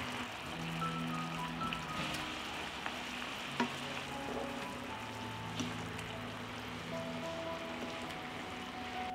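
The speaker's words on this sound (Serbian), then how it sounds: "I pržit ću ih u sosu par minuta sa jedne i par minuta sa druge strane." Meatballs made with potato fry in a pan of sauce, giving a steady, dense sizzle and bubbling crackle throughout with occasional small pops, close and even in level, with no voices.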